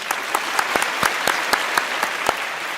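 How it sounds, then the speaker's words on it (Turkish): A studio audience on a televised word-game show claps for the winning contestant at the final, loud, dense applause with a clearly rhythmic beat of sharp accents about four times a second. "Sayın Emir Faruk Beler'e kocaman bir alkış"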